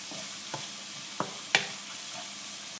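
Vegetables softening in a pan for Tunisian mtabga, a faint steady sizzle with a few light stirring clicks and scrapes, one sharper knock near the end.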